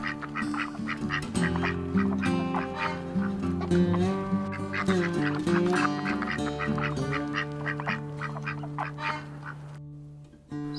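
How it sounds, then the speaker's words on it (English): A duck quacks loudly and close in a rapid run of honking calls, repeated almost continuously with only brief pauses. "This is duck."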